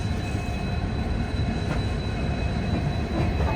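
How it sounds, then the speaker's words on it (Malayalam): The Tripura Sundari Express, running from Firozpur to Agartala, gives a loud, steady rumble of rolling wheels and carriages, continuous and close throughout with no voices. "ഇവിടെ കാണുന്ന വണ്ടിയില്ലേ, ഫിറോസ്പൂരിൽ നിന്ന് അഗർത്തലയിലേക്ക് പോകുന്ന ത്രിപുര സുന്ദരി എക്സ്പ്രസ് ആണ്"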